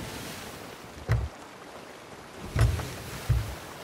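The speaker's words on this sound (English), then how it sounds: "I personally love the waves, how it goes up and down" Ocean waves in the pirate game Sea of Thieves, three soft low swells rolling and splashing at irregular intervals over a quiet hiss of open sea.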